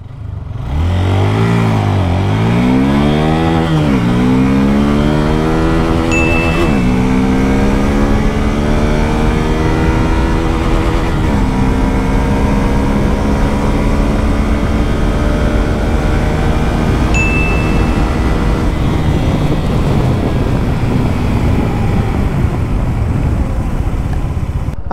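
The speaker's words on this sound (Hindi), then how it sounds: "इस हीरो एक्सट्रीम 160R का 0 टू 60 चेक करते हैं कितने सेकंड्स में अचीव करती है" Hero Xtreme 160R motorcycle accelerating hard from standstill, engine revving up through repeated gear changes with rising and dropping pitch, loud and close, then holding a steady high-speed drone.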